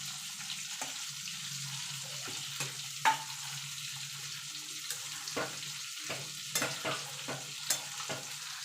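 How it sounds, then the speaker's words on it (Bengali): Mourala fish is stirred into a thickened curry of onion stalks and brinjal in a pan: sparse spatula scrapes and taps repeat over a quiet, low sizzle, with no speech. "এবার মাছটা দিয়ে দেবো, দিয়ে ভালো করে মিশিয়ে নেব।"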